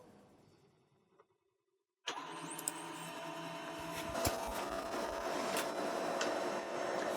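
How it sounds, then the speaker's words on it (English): A printer runs a test page from a computer running Zorin OS Linux. A faint hum and a brief pause give way to loud, continuous mechanical whirring and clicking as the page feeds through. "Let's just print a test page."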